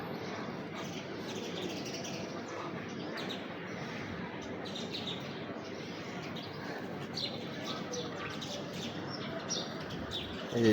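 Small birds chirp and tweet near scattered rice set out as feed, quick bright calls repeating over a soft outdoor background hiss, with no one speaking.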